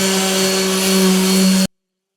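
A power sander with a sanding disc pad drones steadily up close against a wall with a constant buzzing hum, then cuts off abruptly into silence.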